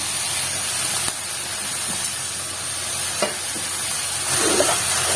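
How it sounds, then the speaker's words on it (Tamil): Chopped cabbage and mixed vegetables sautéing in a pan for lasagna, a steady close hiss of frying with a few soft stirring knocks, louder near the end. "காயெல்லாம் நல்லா வதங்குது"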